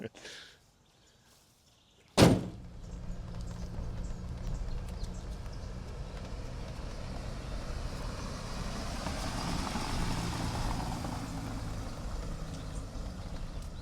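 A 1987 Mercedes W126 280SE pulls away on a drive: after a quiet start and a sharp door thump, a steady low engine and road rumble builds and holds, heard from inside the car.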